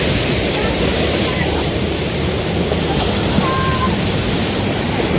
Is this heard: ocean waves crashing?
yes